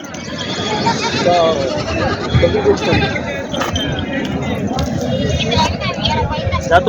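Desi (gavrani) goats bleat repeatedly at the Purna goat market in Parbhani district, with calls rising over a dense, continuous crowd babble and occasional clinks.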